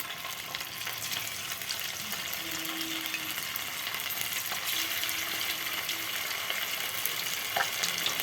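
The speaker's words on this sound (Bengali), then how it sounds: "এবার এইগুলো এরকম মানে বেশ লাল করে করে ভেজে নেবো, মচমচে করে একদম" Chicken pakoras deep-frying in oil in a kadai, a steady, even sizzle and bubbling crackle throughout, close and moderately quiet, with no talking.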